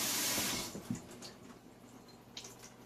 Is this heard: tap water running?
yes